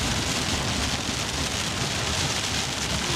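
Steady, dense rain drums loudly on a surface throughout, a constant wash of close patter with no voices heard.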